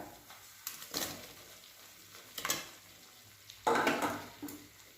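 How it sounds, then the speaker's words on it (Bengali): Fried bitter gourd and potato pieces go into a pan of cooked spices, giving three or four loud bursts of sizzling that flare up and settle, close by, with no talk. "এবার আমি এর মধ্যে দেব ভেজে রাখা উচ্ছে আর আলুটা"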